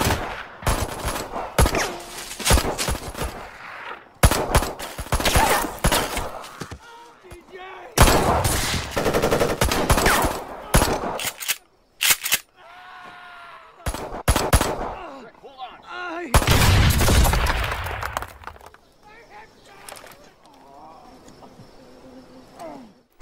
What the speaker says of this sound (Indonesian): memancing mereka dengan menembak ke udara